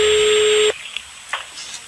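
A steady electronic landline telephone ring tone sounds for under a second during a prank call, then cuts off abruptly, leaving faint room noise and small clicks.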